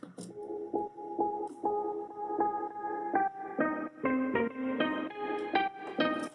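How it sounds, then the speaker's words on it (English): A bright Korg M1 synthesizer plays a rhythmic pattern of stacked chord stabs and bell-like tones. It is a steady, repeating electronic keyboard phrase with no voices. "So this is from Korg M1."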